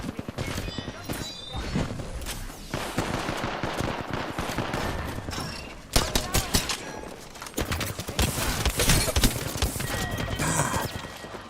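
Video game gunfire, dense continuous volleys of shots and impacts layered under someone talking, loud and busy throughout.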